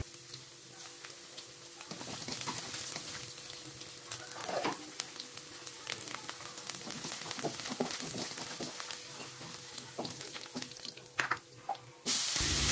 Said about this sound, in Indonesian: meskipun kita pakai jengkol yang udah direbus, tapi kita tetap akan menggorengnya sebentar saja